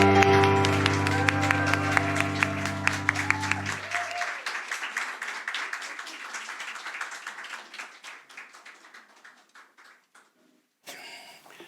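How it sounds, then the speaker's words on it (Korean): A conference audience claps loudly to welcome pastor Mark Biltz, the applause first mixed with sustained music, then thinning out and fading to scattered claps. "마크 빌츠 목사님 모실 때에 큰 박수로 환영해 주시기 바랍니다"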